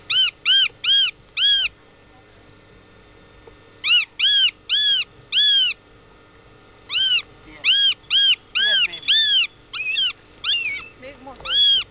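A cat meows repeatedly in bursts of three to five loud, close calls separated by short pauses, with faint rustling and low background noise underneath.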